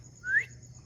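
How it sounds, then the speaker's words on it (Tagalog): A contestant in a drinking challenge gives one short rising whistle, faint and brief, against a low background hum with no talk. "Pagkatapos yung inumin, kailangan niyang sumipol."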